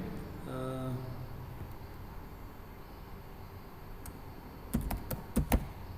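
A computer keyboard is typed on while HTML code is written: a brief spoken hum early, then quiet room tone, followed by a quick cluster of several sharp, close key clicks near the end.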